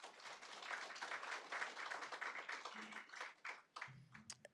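Audience applause at a school district candidate forum, moderate clapping that swells and then thins out, with a few scattered final claps and a brief low voice near the end.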